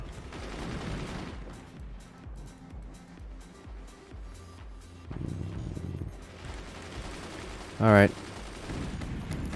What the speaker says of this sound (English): I heard a cannon, but I didn't see where